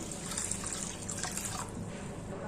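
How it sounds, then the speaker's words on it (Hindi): Water pours steadily into a pot of washed dal and rice set to soak, a continuous close rushing and splashing with no one speaking. "धोने के बाद अब हम इसमें डाल देंगे पानी"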